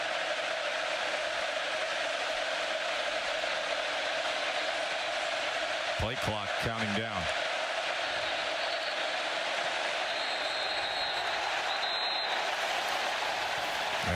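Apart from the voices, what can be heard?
stadium crowd noise at Texas A&M football game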